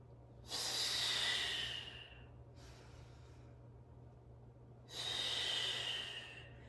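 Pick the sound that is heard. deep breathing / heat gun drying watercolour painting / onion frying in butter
deep breathing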